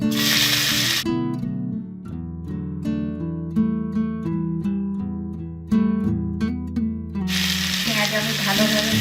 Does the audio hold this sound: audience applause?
no